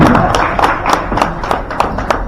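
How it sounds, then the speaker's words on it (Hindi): A crowd at an animal husbandry department meeting claps as an official takes the stage, loud close hand claps in an uneven rhythm with a murmur of the hall underneath. "तालियां बजती रहनी चाहिए"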